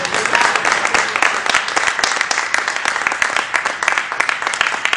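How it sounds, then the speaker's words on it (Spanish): A church congregation applauds during a worship service, dense and energetic clapping that fills the whole clip at an even, loud level, with faint voices mixed in. "Den un aplauso al Señor"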